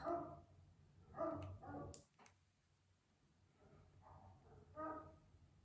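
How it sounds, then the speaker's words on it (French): An unhappy dog indoors gives a few faint, muffled barks or whines, grouped irregularly across several seconds against a quiet room. "j'ai mon chien qui n'est pas content"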